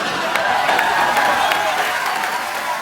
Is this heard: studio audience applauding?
yes